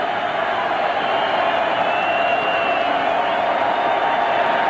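A football stadium crowd in Atlanta roars steadily at Georgia Tech's home game against NC State, on third down, as a loud sustained wash of cheering with no break.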